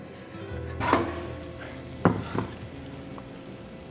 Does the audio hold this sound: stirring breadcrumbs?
yes